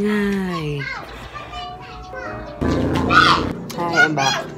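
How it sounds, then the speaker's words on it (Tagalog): Children shout, squeal and chatter loudly at close range while playing, their high voices overlapping and rising in bursts. "Napakaingay naman ng mga bata"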